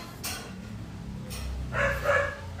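A pet dog indoors gives a couple of brief barks and yips, fairly close, with low room noise and some muffled background activity between them.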